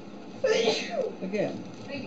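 A single sharp sneeze bursts out close by, followed by a person speaking briefly.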